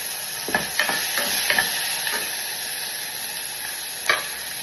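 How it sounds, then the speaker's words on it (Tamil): Onion and tomato sautéing with salt in a pan, a continuous close sizzle punctuated by several sharp scrapes and stirs of a spoon, with a faint steady hiss throughout. "வெங்காயம் தக்காளி எல்லாம் போட்டு வதக்கிக்கலாம் கொஞ்சம் உப்பு"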